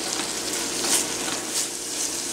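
A vegan stuffing mixture of cranberries, water, wild rice and chestnuts cooks in a pan, giving a steady, close, soft sizzle and bubble with faint stirring and no talk.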